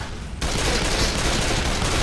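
Dense, sustained gunfire from Left 4 Dead 2 survivors shooting at a Boomer, a loud unbroken barrage of rapid shots that starts abruptly after a brief quieter moment and continues steadily to the end.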